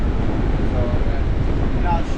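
Strong wind buffets the microphone with a constant rumbling roar on a kite boarding beach in South Africa, while faint voices and surf-like wash sit underneath.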